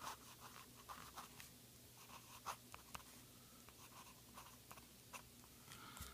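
A Lamy Safari fountain pen writing on 80-gram Rhodia notepad paper over a backing sheet, faint close scratching strokes in a steady, uneven rhythm with short taps and pauses between words.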